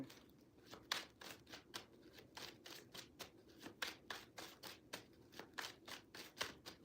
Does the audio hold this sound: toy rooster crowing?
no